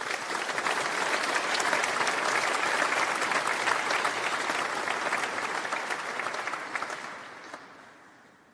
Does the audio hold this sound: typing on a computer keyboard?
no